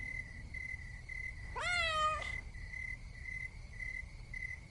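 A single drawn-out cat meow rises and falls for under a second on a terrace at night, set against a steady, continuous chorus of chirping crickets.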